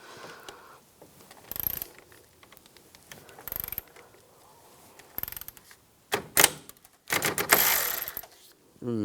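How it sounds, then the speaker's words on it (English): A ratchet socket wrench with a 10mm socket clicks in quick bursts while bolts are removed during an AC condenser replacement on a 2004-2009 Toyota Prius, the rattling spurts separated by quiet gaps, close and moderately loud. "Another one right here, take that out, same 10mm socket."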